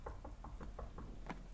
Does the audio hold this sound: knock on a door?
yes